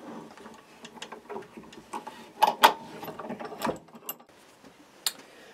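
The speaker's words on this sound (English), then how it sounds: "we're going to take all the clamps off now" Metal clamps are loosened and removed from a glued-up Les Paul style guitar body, giving scattered ratcheting clicks and sharp knocks, some louder than others, with no talking.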